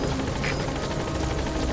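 In the video game Metal Gear Solid 5: The Phantom Pain, a support helicopter arrives with a loud, continuous rotor thrum and a rapid beating chop, heard steadily with no voices over it.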